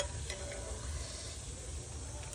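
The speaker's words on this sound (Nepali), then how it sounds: "मेरो रारा चाउचाउ उम्लिँदैछ।" Rara instant noodles boil in a pot as a soft, steady low bubbling and simmering hiss, faint and unbroken over a couple of seconds.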